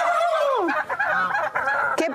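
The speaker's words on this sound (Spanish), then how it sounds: "Voy a ir a ver a los pavos." Farmyard turkeys in a village in L'Acebal, Siero, Asturias gobble in several rapid, warbling bursts, loud and close, with no talk over them.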